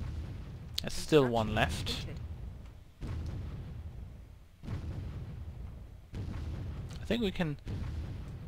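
Explosive shots in the strategy game Warzone as pepper pot pits are fired on, deep booming impacts recurring every few seconds with sweeping weapon tones between them, while a player talks throughout.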